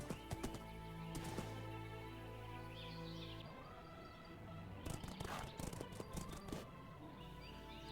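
Horses in ArdaCraft, a Minecraft world, with hoof clip-clops and a whinny over birdsong and a steady game soundscape, moderately close, with a cluster of hoof steps near the end.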